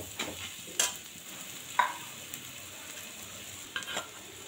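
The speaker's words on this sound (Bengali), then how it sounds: "শুকনো মশলা একদম দিয়ে নেড়ে চেড়ে নেব আবার" Dry ground spices—turmeric, chilli and cumin powder—being stirred into a frying okra curry base of onion and tomato, with scattered soft scraping strokes over a low, steady sizzle; no talking.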